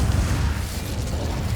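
The Incendio fire spell in the Hogwarts Legacy video game gives a loud, rumbling burst of flame that roars on steadily, with crackling texture and no speech over it.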